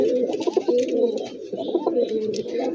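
Pigeons cooing close by in soft, repeated throaty phrases, two rounds of low burbling calls with a faint chirp or two above.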